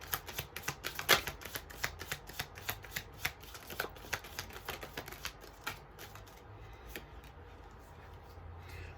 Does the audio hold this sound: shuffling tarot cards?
yes